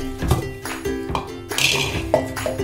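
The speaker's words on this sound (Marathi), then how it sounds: "मिक्सरचा जार घ्यायचा आहे" Hard objects clink and knock together as a mixer grinder jar is picked up and set down, a few sharp ringing taps in quick succession.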